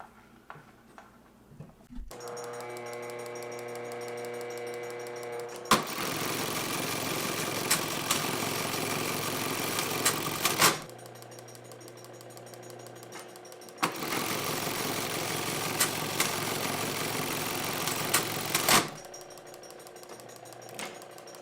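A Singer Class 71 sewing machine stitches a buttonhole, its motor whirring in two long, steady bursts of rapid mechanical clatter separated by a quieter idling hum, close and loud with no talking.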